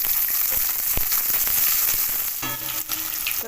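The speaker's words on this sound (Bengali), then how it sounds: "এবার পেঁয়াজ আর ক্যাপসিকাম ভেজে নেব।" Onion and capsicum frying in hot oil in a wok, a loud steady sizzle close up with a few stirring scrapes, continuous and alone.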